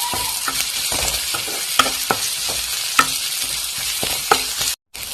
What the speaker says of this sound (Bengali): পেঁয়াজটা আমি একটু ভাজিয়ে নিয়ে দিয়ে